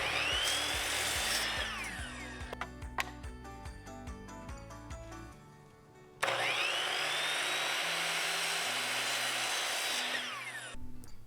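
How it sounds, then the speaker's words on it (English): A power saw cuts the back legs of a wooden mid-century-modern style dresser base, with two loud bursts of whining, rising motor noise separated by a brief lull and scattered clicks. "To cut the two back legs, I'm using the measuring guide on the saw so I get an accurate measurement every time."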